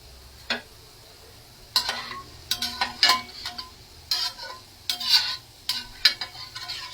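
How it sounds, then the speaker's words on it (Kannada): Boondi being fried in oil in a home kitchen, heard as scattered bursts of sizzling with light clinks and stirring scrapes, spaced irregularly over a quiet background with no talk. "ಇದನ್ನ ನಾನು ಎಣ್ಣೆಯಲ್ಲಿ ಕರಿತಾ ಇದ್ದೇನೆ."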